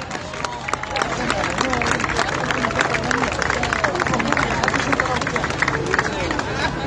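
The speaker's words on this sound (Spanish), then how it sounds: "Un aplauso." An audience claps and cheers as a folk band is introduced and comes onto the stage at a cultural event, with a dense, steady wash of clapping and crowd chatter that stays loud and continuous.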